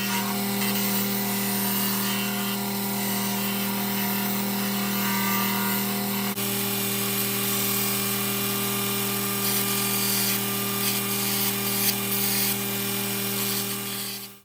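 Continuous rasping and scraping of a blade shaving a wooden knife handle, steady and close, with a constant mechanical hum underneath.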